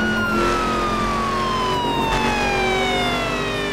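An ambulance siren in the video game The Crew sweeps slowly downward in pitch over a rumbling engine while driving in a tunnel, sounding close and continuous, with no voices.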